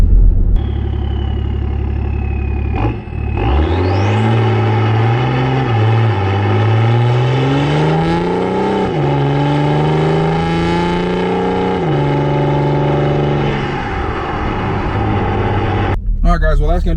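A diesel BMW E70 X5 engine revs up and down repeatedly, loud and close, its pitch climbing and falling in long sweeps before settling back.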